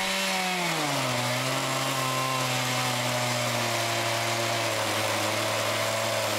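A chainsaw cuts wood into thick planks, its engine dropping from a higher whine into a steady, loud, continuous drone under load without a break.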